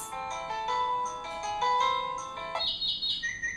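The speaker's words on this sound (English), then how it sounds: "Bird sounds." An intelligent doorbell plays its bird-sounds ringtone, a bright electronic melody of chirping, tweeting tones followed by a few higher trilling calls, fairly quiet and heard alone.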